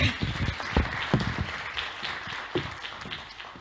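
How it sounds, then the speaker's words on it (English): An audience at an entrepreneurship panel in Bosnia and Herzegovina applauds a panelist, a moderate round of distinct, close claps that is strongest at the start and thins gradually. "huge round of applause for Adela"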